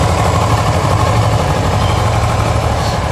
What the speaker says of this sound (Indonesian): Begini ya bunyinya, 2 silinder